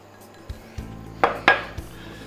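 Sugar goes into butter melting in a saucepan for glazed Vichy carrots: a few light clinks and scrapes of a utensil against the pan, two sharper metallic taps in the middle, no talking.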